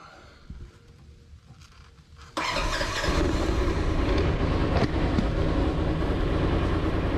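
Ford Ranger pickup truck engine catching at about 2.4 seconds after quiet fiddling noises, then running steadily and loudly at a rough idle to the end.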